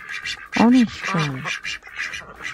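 A duck gives several nasal quacks in quick succession, close and clear, mixed in with a child's rhythmic sing-song recitation of the Bengali alphabet and a light background melody.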